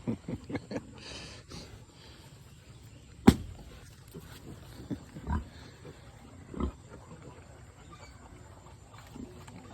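Quiet grunts and squeals from three-week-old piglets, scattered irregularly, with one sharp clatter and occasional soft voices in the background.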